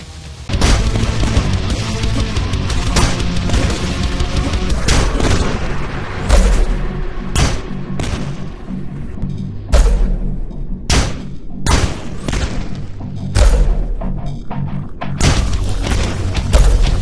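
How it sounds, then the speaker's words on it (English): Riveter weapon from the shooter game Dusk, a rapid-fire rocket launcher firing explosive rivets: a loud, steady run of booming thuds and blasts, repeated in quick succession with no talk. "the riveter, which is essentially a rapid-fire rocket launcher capable of crazy high damage with its explosive rivets"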